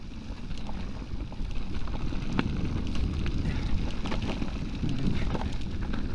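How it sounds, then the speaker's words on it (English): Steady wind rushes through dry trees and brush along a switchback bike trail, a constant broad roar close to the microphone with faint rustles and no talking. "It's breezy, but it's bordering on windy as well."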